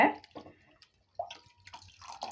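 Soaked grated cassava squeezed by hand, with water splashing and dripping in short irregular bursts, close and fairly quiet, amid brief pauses.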